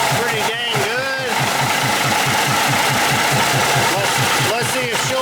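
Diesel engine of a 1953 GE locomotive, run again after sitting since 1998, idling loud and close with a steady knocking thump and rumble, while voices talk intermittently over it.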